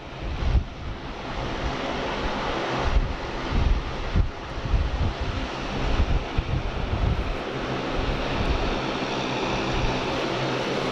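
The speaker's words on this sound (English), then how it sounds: "Eddie heads just taxiing down to the end, the A350." Airbus A350 airliner taxiing at Sydney Airport, heard as a steady broad jet roar from a distance, mixed with heavy wind buffeting on the microphone that rises and falls throughout.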